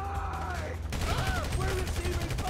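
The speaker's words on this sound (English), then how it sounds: "We're receiving fire" Gunfire in Grand Theft Auto V: dense, rapid bursts of shots crackling close by over a low rumble, with voices talking and calling out over the shooting.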